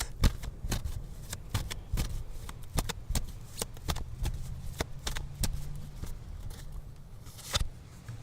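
Tarot cards are shuffled by hand in a quiet room: a string of soft riffling flicks and sharp card snaps at an uneven pace, close and fairly faint, with no voices.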